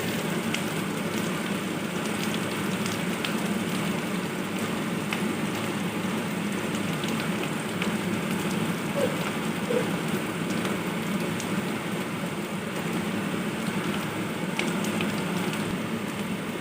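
Curry leaves fry in a pan of hot oil for an Andhra-style brinjal curry, a dense, steady crackling sizzle that stays close and even throughout with no voices.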